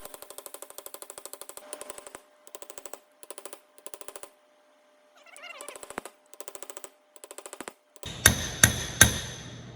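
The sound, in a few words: hammer tapping on tractor rear end bearing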